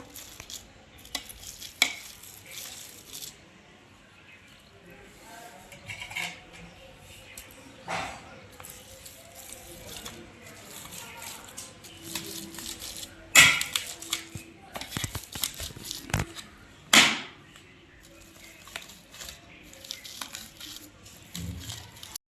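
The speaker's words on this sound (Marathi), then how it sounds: "पावभाजीच्या मॅशरने आपण मॅश करत आहे तर कारण लय शिजलाय हा बटाटा" Well-boiled potatoes mashed with a pav bhaji masher, soft repeated squishing and pressing thuds in a kitchen, with a few sharper knocks and a voice talking over parts of it.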